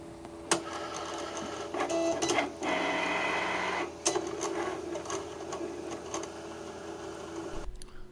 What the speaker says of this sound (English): While the Cricut is cutting the vinyl, you can see the progress on the computer screen.